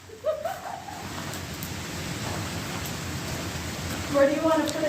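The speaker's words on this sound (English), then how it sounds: "the rain, it just pouring rain just started outside" Steady rain pours outside a building in rural Missouri, a dense even hiss heard from indoors, with a few faint bird-like calls rising over it near the start and end.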